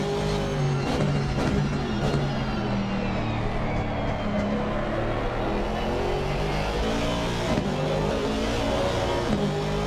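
A GT4 Chevrolet Camaro leading a multiclass race at Donington Park alongside other race cars, a continuous loud engine drone with shifting pitch as cars accelerate past.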